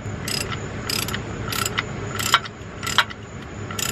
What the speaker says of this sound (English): After you drain it enough, put the bolt back in the oil pan. Tighten it back down